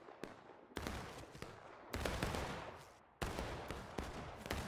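Musket volleys in the American Civil War game War of Rights, battle on the West Woods map: several sharp, loud black-powder shots with bursts of layered fire, each cracking in abruptly and then ringing off.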